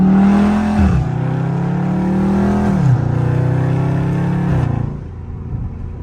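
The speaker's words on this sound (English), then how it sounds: "Do my car sound good?" A Dodge Charger Scat Pack engine in sport mode revs loudly several times, rising and falling in pitch between steady idling, then settles to a lower idle.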